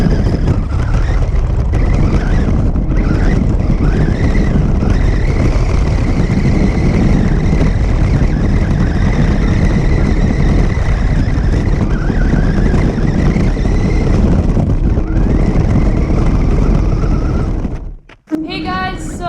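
Radio-controlled car racing along a lakeside just before plunging into the water, a loud continuous whine and rush of the motor and tyres close by, cutting off abruptly near the end, with a voice faintly underneath.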